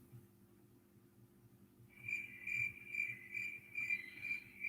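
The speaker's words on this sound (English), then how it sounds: "And the crickets are back." Crickets chirp in a steady pulsing rhythm that starts after a quiet stretch, fairly close and clear over a low background hum, with no talk.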